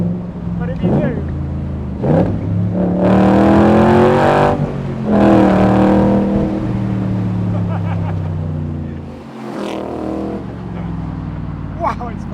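A new Shelby Cobra's engine revs hard under throttle in several loud surging bursts, rising and falling close by with a rough, characterful note, while someone talks over it.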